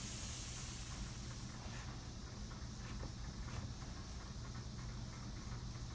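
A spray gun hisses as it lays down clear primer, a faint, steady airy spray with a louder burst at the start and a few light clicks from a sticking trigger.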